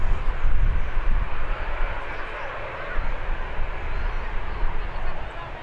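An Aer Lingus Emerald Airlines airliner departs Birmingham Airport, giving a broad, steady roar of jet engine noise heard from a distance.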